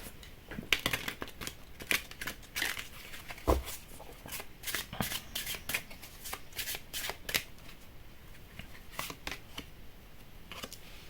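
Oracle cards being shuffled in a steady run of crisp riffling and flicking bursts up close, with no voice heard during the handling.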